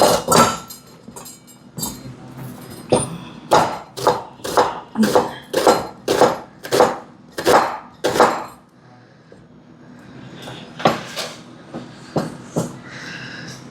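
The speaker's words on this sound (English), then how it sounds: "We're gonna just chop up some garlic" A knife chops garlic and onion on a cutting board on a home stovetop, a steady run of sharp, evenly spaced close taps that pause briefly then resume in a looser rhythm.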